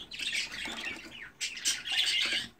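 Lutino budgerigar chicks squawk in a near, harsh, continuous chorus of raspy calls, with a short lull partway through before the squawking swells again.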